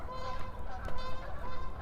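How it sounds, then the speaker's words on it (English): Canada geese honking as they fly over a University of Regina campus walk on a spring morning, a steady run of repeated calls at moderate distance. "Here comes geese."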